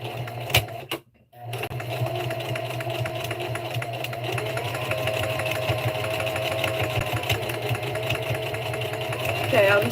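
A sewing machine stitches steadily across the bottom of a tote bag, a close, continuous mechanical whir that runs almost the whole time after a brief pause near the start.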